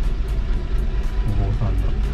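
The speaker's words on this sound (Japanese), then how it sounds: "バス来た。" A bus pulls up at a stop outside Sendai Station in Japan, its deep engine rumble steady and close throughout, with people talking over it.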